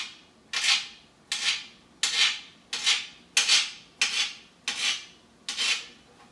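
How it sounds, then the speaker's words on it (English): Knife slicing a vegan link for a tofu scramble: eight evenly spaced, rasping strokes, close and clear, each a short scrape fading out, with no talking. "Going to chop this in slices."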